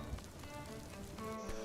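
A little rain cloud in a farming video game lets out a soft, steady patter of rain, faint and continuous with no voices over it.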